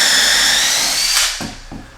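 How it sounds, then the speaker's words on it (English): Power drill boring into glued kitchen cabinet material with a small drill bit, a loud steady whine that cuts off, followed by two brief knocks. "anytime you drill in these mostly glue cabinets, give me a hole and back out"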